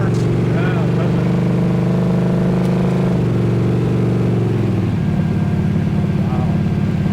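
A 1968 Hemi Dodge Dart GTS muscle car rumbles while driving, its deep engine note steady and then stepping in pitch as it revs and shifts, loud and close from inside the car.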